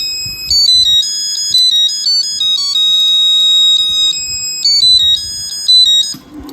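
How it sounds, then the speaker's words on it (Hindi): Electronic buzzer on a household flour mill (aata chaki) sounding because the hopper is empty, a loud repeating melodic ringtone-like beeping pattern that runs steadily for several seconds before cutting off. "तो इसमें जो बजर लगा ये इसलिए चल रहा है क्योंकि इसमें कोई मटेरियल नहीं है।"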